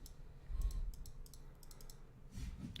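A run of sharp, crisp clicks of a Logitech G Pro gaming mouse's right button in quick irregular succession, close and fairly loud, with a heavier thump near the end.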